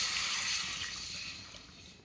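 Water pours steadily into a cooking pan of semolina in a continuous hissing splash, loudest at the start and tapering off slightly, with no voices.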